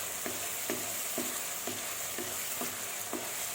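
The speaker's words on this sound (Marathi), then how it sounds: "आलं लसणाचा कच्चा वास जाईपर्यंत व्यवस्थित परतून घेऊया." Ginger, garlic and green chili paste sautéing in a pan for veg dum biryani, a continuous loud sizzle with regular spatula strokes scraping through it about twice a second.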